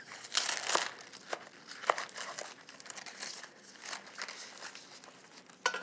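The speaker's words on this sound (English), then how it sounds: "This is a big head of romaine, so I'll cut about half of this in half lengthwise." A knife slices through a big head of romaine lettuce, giving crisp crunching and crackling bursts, loudest near the start, then softer scattered cuts, close up with no talking.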